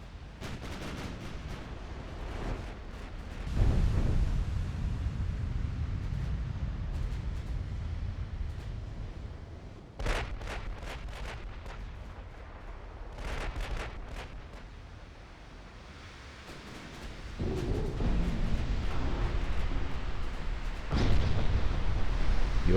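Warship naval guns booming in Ultimate Admiral: Dreadnoughts, heavy low rumbling salvos arriving in irregular clusters with sharp crackling reports, fading between volleys and swelling again toward the end.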